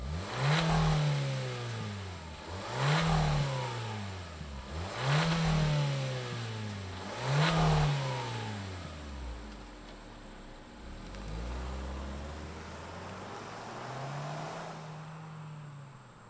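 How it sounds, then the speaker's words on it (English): A 2024 Hyundai Kona N-Line revs repeatedly in four rising and falling bursts, then settles into a steadier engine drone as it pulls away, close and fairly loud with no talking. "Let's fire up this Kona N-Line and see it roll."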